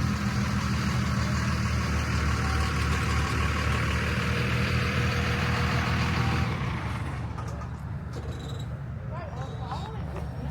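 A 1937 Chevrolet idles at an outdoor car show, its steady low engine rumble holding close and loud for several seconds before fading back beneath crowd chatter and ambient show noise.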